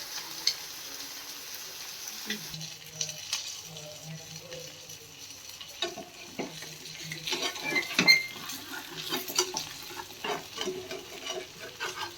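Fish frying in a pan, with a steady close sizzle of hot oil and occasional scraping and clinking of a utensil against the pan, with no talking.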